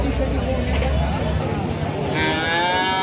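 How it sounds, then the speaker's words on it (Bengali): Calves give loud, drawn-out moos at the Baneshwar cattle market, with busy crowd chatter and voices all around them. "আরো গরু আছে"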